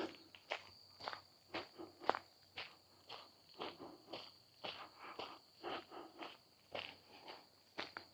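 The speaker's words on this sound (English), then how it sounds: "Sorry if you can hear my footsteps on the road." Footsteps fall on a paved road on a walk toward Flying Fish Point. Steady, evenly spaced steps sound close and quiet, about two per second, over soft outdoor background with no talking.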